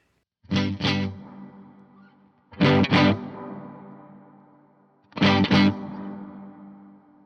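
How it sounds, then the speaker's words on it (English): Three bursts of electric guitar chords through Klon and Gritador overdrive pedals, each double-struck and left to ring out with a gritty, saturated sustain and no talking. "I'm running a Klon and a Gritador into the front end of this pedal board"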